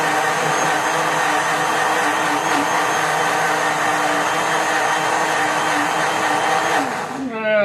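A kitchen blender whirs loudly and steadily as it grinds up a one-dollar bill, a continuous motor roar that holds for several seconds before winding down at the end.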